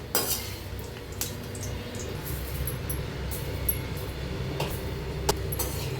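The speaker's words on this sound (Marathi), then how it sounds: "कढीपत्ता बी चांगला क्रिस्पी झाला या बघा आवाज बी ये लागलाय" Curry leaves fry crisp in oil with a steady, moderate sizzle, punctuated by clinks and scrapes of a utensil against the pan and a few sharp crackles.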